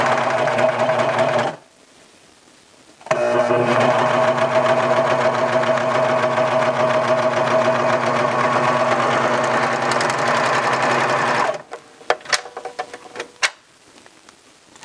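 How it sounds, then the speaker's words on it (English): A serger running a flatlock stitch through two layers of performance fabric, a steady fast mechanical hum and clatter that runs briefly, pauses, then continues for about eight seconds before trailing off into scattered clicks. "we're going to use 2 layers of performance fabric and place it right at the edge of the presser foot and start stitching"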